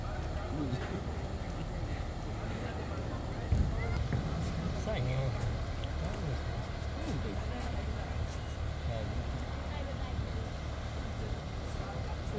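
MV Pubali 6, a passenger launch heading from Dashmina ghat toward Dhaka, runs with a steady low engine drone and water rush, while people talk nearby throughout.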